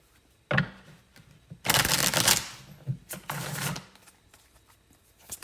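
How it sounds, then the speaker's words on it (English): Playing cards are shuffled in a few quick riffling bursts, crisp and close, separated by short pauses and soft handling sounds. "should probably shuffle real quick"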